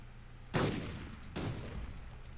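Two loud gunshots in the zombie survival game DayZ Epoch, about a second apart, each a sharp crack followed by a rolling echo over a low background hum.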